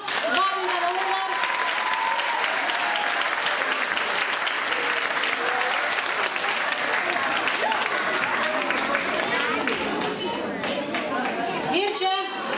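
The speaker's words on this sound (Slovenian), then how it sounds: "dajmo aplavz, vabim ga na oder." An audience at a closing ceremony of a diversity celebration applauds Mirče Ivanovski as he is invited on stage; continuous crowd clapping runs throughout, with a presenter's voice and cheers carrying over it.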